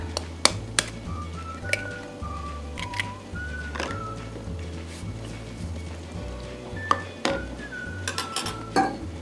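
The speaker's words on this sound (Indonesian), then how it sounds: "Ini kita kocok menggunakan whisk" A whisk beating eggs and sugar in a bowl for a steamed date sponge cake gives irregular metallic clinks and taps against the bowl, with a steady low background tone underneath.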